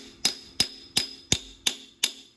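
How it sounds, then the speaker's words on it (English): Six sharp metallic hammer whacks, evenly spaced and close, seat a 7.3 diesel injector cup, each strike ringing briefly before the next. "I just do a couple extra whacks, just make sure it's seated"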